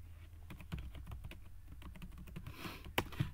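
Quiet, close typing of a password on a computer keyboard, with a quick irregular run of soft key clicks and a slightly louder keystroke near the end, no voices.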